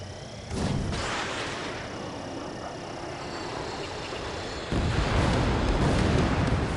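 An enemy bomber is shot down and explodes in Ace Combat 7, heard as a loud, rushing blast of broadband noise that surges twice, over a constant roar of jet engines.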